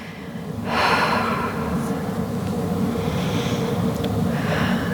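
Slow, audible breathing during a Pilates hamstring stretch: a long, breathy exhale swells and then holds steady, close to the microphone, with no talking.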